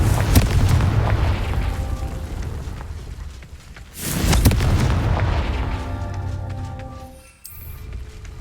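In Hogwarts Legacy, the Confringo fire spell lands with a deep, rumbling explosion that fades out, followed by a second heavy boom and trailing crackles over the game's background ambience.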